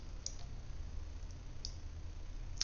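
Computer mouse clicks while working in SolidWorks 2020 CAD software: a few small, sharp, close clicks spaced apart over a low steady hum.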